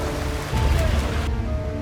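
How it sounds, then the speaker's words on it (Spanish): Steady, dense rain hisses loudly during a storm in an animated folk tale, a continuous wash of falling water with a low rumble underneath. "Querido Hechi, por favor, detén esta lluvia."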